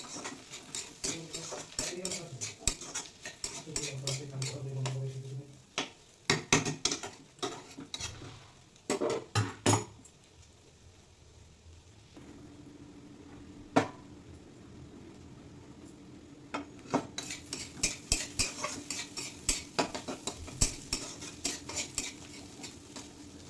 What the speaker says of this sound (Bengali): ভালো করে মিশিয়ে আর একটু বেঁধে নেবো